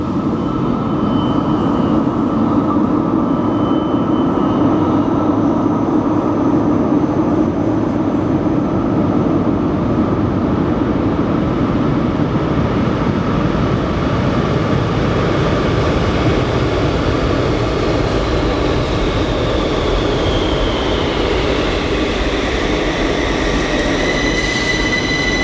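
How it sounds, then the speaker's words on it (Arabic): An Algiers metro train pulls into the station with a loud steady rumble and rising wheel squeal that builds near the end, with no voices over it. "ده القطر بتاعنا او المترو بتاعنا، سامعين صوت اهو، المفروض انه جاي."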